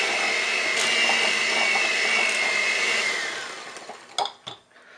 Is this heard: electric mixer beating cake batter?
yes